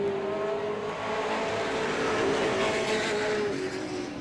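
Race cars in a heat at Star Speedway in 1993 blasting down the back straightaway: a dense, sustained engine roar at a distance, with a steady pitch that drifts slightly as the field passes.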